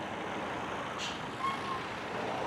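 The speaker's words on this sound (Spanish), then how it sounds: "hay un ruido tremendo ahora mismo con el camión al lado" Trucks pass close by on a road, producing a steady, broadband rumble and roar of heavy traffic. It sounds fairly faint and distant in level, with a brief higher hiss partway through and no speech.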